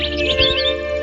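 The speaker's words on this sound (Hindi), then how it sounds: "दूर से आती है चिड़िया की आवाज।" Rapid high chirps and tweets from a bird, a short flurry of bright calls over a faint steady hum.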